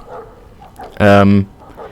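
A single loud, close dog bark rings out in the PS2 game The Suffering: Ties That Bind, one short sharp woof against a quiet, faintly murmuring background.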